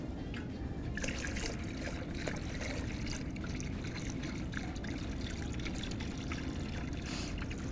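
Concrete floor stain pours steadily into a container, a continuous liquid splashing and trickling that stays close and fairly loud for several seconds with no talking over it.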